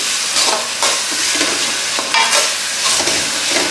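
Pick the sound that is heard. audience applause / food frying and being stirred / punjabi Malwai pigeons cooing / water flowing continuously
food frying and being stirred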